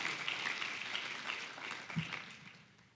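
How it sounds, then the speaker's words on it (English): A conference audience gives a round of applause, dense clapping from a crowd that holds steady and then gradually fades out, heard without speech. "let's give them a huge round of applause."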